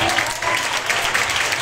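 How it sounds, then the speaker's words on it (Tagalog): A church congregation at an anniversary celebration claps together, a bright, dense burst of hand clapping with slight pulsing, loud and close, filling the short moment without talk. "Oh, clap your hands, all you people."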